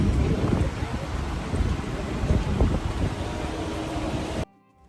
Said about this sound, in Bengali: এখানে প্রচন্ড হাওয়া।